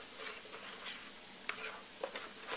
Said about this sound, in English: as soon as you put it in, it starts to sizzle.